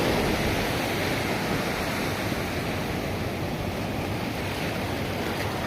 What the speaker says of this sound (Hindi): पानी की लहरें तेज हो रही है